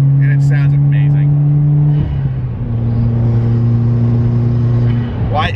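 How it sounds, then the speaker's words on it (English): A modified Subaru WRX with a new downpipe idles and revs with a loud, steady exhaust drone that dips and settles midway, close by, with people talking over it. "This is also my first time getting to experience Jared's WRX with the new downpipe, and this thing's a beast, and it sounds amazing"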